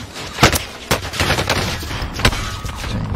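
Rapid bursts of gunfire from the video game Warzone, several loud sharp shots spaced across a few seconds over a noisy background.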